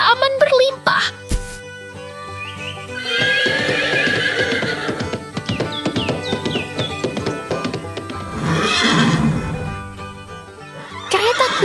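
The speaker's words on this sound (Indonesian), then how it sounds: "Kereta kuda berlarian di bawah langit cerah" Horses whinny several times, loud and close, over a busy mix of clopping, tapping and chirping. A voice talks throughout.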